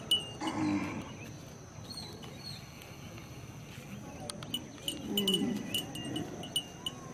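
Water buffalo at a bull fight event, lowing in a couple of drawn-out moos amid a busy outdoor crowd and background noise, with occasional high tonal sounds.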